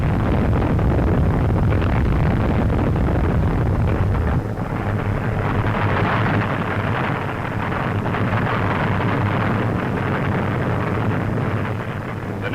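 Great oil tanks are blown up in a wartime commando demolition raid, heard as a loud, continuous roaring rumble of explosion and fire that fills the whole stretch, with wind-like noise and no speech.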